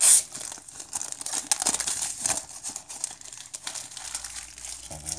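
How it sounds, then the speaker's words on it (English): Plastic packaging around a Kmashi 15,000 mAh power bank crinkles and rustles up close as it is unwrapped, with continuous crackling, a sharp burst at the start and a tear-like sound near the end. "Let's go ahead and unwrap it."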